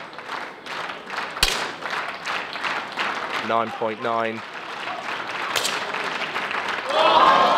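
Applause and cheering from a crowd at an ISSF World Cup shooting final in Changwon, Korea, a steady wash under a commentator's talk that swells louder near the end.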